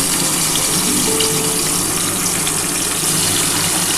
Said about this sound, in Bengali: আমি এবার মাছগুলো ভেজে নিই